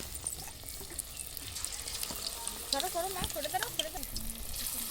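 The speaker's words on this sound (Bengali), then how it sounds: "আর আমি মাছটাকে আমি এইগুলোর ভিতর দিয়ে দু পিঠে ভালো করে মেখে গরম তেলের ভিতরে এভাবে আস্তে আস্তে ছাড়বো।" Coated pangas fish fillets sizzle in hot oil, a continuous crackling fry that grows busier and louder as pieces are lowered in, with light clinks of utensils and faint background voices.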